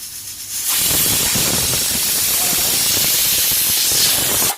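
Pressure cooker on a stove whistling as it vents steam while cooking red cow peas, a loud continuous hiss that bursts in after a brief quieter moment and holds steady to the end.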